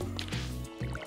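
Water pouring from a watering can in the farming game Stardew Valley, a short game sound effect of liquid splashing and dripping in a couple of bursts, close and fairly loud over a steady musical background.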